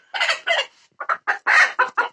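Hens and roosters cluck up close and loud in a burst of short, choppy calls with brief pauses between them, and no one speaks.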